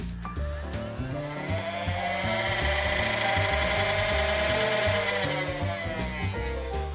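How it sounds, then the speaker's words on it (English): Nerf Elite 2.0 Doublepunch blaster running on four AA batteries spins its flywheels up into a steady, loud motorized whir that holds for several seconds, with a sustained mechanical hum. "One downside about this blaster is the rev up time."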